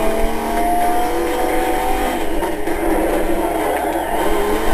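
A race car's engine roars steadily while drifting in the video game Need for Speed: Most Wanted, a loud continuous drone with faint tire noise and no speech.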